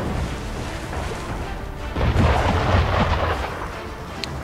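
Heavy cannon fire in the Assassin's Creed 3 video game, a dense rumbling barrage of booms rising in loudness midway and continuing to the end, with no voices.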